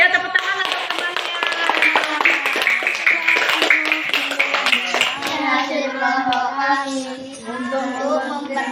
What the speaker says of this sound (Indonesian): Iya, ya tepuk tangan untuk temannya.